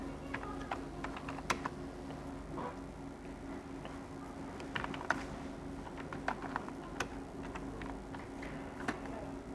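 Typing on a computer keyboard while entering text into a PowerPoint text box: irregular bursts of crisp, close key clicks spread across several seconds over a low steady hum.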